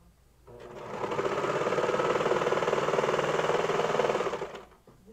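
A serger sewing machine stitches leggings fabric in one steady, fast, loud whirring run lasting about four seconds, starting and stopping abruptly with no talk over it.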